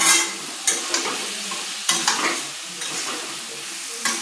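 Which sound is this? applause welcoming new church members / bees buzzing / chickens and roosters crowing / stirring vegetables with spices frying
stirring vegetables with spices frying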